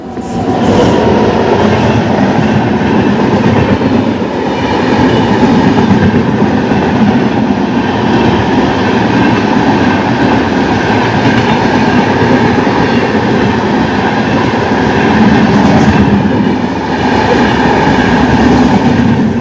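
A passenger train, the NJP to Kolkata Holi Special, runs steadily along the rails with a continuous loud rumble and rattling clickety-clack that holds at an even level throughout, with no voices.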